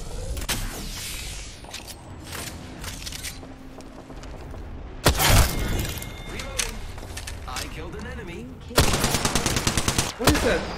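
Gunfire in the Apex Legends video game: rapid automatic bursts crackle over a busy mix of game effects, with a sharp burst near the middle and a longer, denser volley toward the end.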